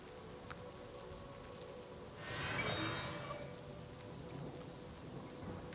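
Video game rain in The Elder Scrolls IV: Oblivion Remastered hisses softly with a low rumble; midway a louder swell of rain and distant thunder rises, then eases back to a quiet patter.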